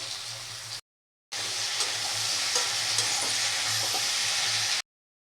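Sliced raw tomatoes and vegetables fry in a pan for a spinach dish, giving a loud, steady sizzle with stirring scrapes, broken by one short silent gap, with no talk.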